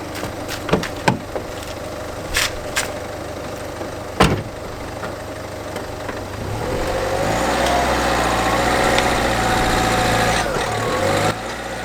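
A Ford Fiesta engine starts up and runs steadily as the car is driven up ramps, a loud mid-pitched hum that swells after a few scattered knocks and door-like clunks.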